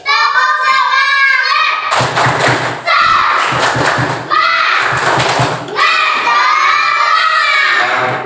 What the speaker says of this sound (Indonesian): pimpin teman-temannya untuk tepuk semangat